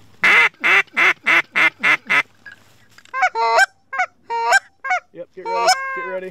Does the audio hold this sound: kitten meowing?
no